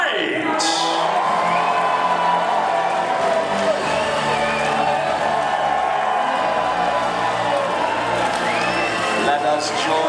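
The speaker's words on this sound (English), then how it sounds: "Let us join together now and raise a cheer for all of our heroes." A large crowd at a medieval tournament show cheers for a knight, with whoops, shouts and sustained roaring that fills the whole stretch; a voice also carries over the crowd noise.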